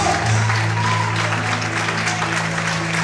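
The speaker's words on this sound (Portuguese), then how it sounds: "Todos podem aplaudir e exaltar o Senhor essa noite." A church congregation claps together during a worship service, dense steady applause filling the room throughout, with a low sustained musical drone beneath.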